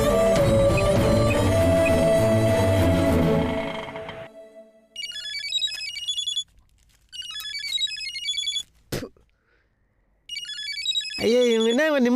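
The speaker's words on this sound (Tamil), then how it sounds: "ஐயா, இவங்க என்னது இப்போ ஃபோன் பண்ணுறாங்க?" A phone ringtone chimes in repeated electronic bursts with pauses between them, loud and close, following music and dialogue in a Tamil TV serial scene.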